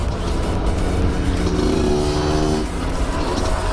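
A motorcycle passing on the road, its engine droning under steady traffic noise and swelling briefly into a rising, revving tone in the middle before easing off.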